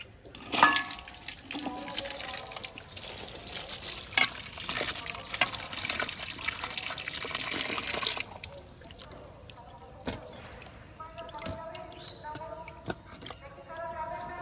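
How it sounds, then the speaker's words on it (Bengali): Young jackfruit and potatoes are washed under running water in a kitchen sink, a near tap gushing and splashing for several seconds before it stops, followed by lighter handling sounds; someone speaks over parts of it. "এবারে কাঁঠালের গজটা আর আলুটা ভালো করে ধুয়ে নেব"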